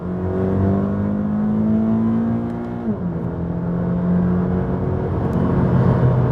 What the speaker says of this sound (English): It's the Boxer engine, also used in Volkswagens of past.